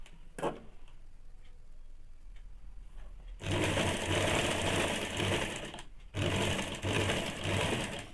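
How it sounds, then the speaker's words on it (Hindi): An electric sewing machine stitches a Bombay-cut blouse, running double stitching in two loud, rapid bursts split by a short pause, after a quiet stretch at the start. "अब हम लोग इसको डबल सिलाई चला देंगे"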